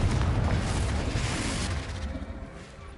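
Confringo blasting spell exploding in Hogwarts Legacy, a loud, dense rumbling boom that fills the first two seconds and then slowly tails off into a softer roar.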